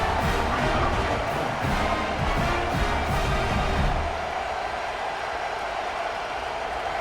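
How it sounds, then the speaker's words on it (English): A loud, dense stadium crowd roar fills a college football video game (College Football 26, Texas at Mississippi State) as the home fans try to rattle a kicker before a field goal try; the steady din eases slightly midway. "This crowd trying to do its part to get inside the kicker's head."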